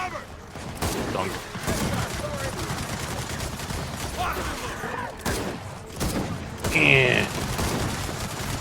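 Turret gunfire in the Gears of War 4 PC game, a dense, continuous rattle of rapid shots and impacts, loud and close, with a voice briefly speaking over the barrage.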